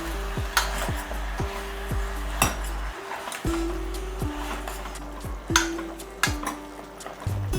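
Mutton frying with onion and green chili in a pan for a mutton masala gravy, with repeated metallic clinks and scrapes of a spoon stirring against the pot over a steady low sizzle, no talking.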